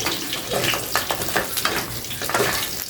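Pork ribs browning in oil in a pan, a steady close sizzle with bursts of crackling and spattering as pieces shift, no talk.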